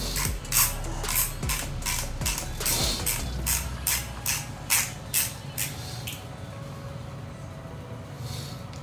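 A 1Zpresso XPro hand coffee grinder is turned through its adjustment, giving a quick, regular series of sharp mechanical clicks close by, then fading into a quieter, softer ratcheting near the end.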